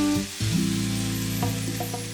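Tomatoes cook in a pan for jackfruit biryani until soft and mushy, giving a steady, close sizzle throughout, with a few faint clinks and a low tonal hum beneath.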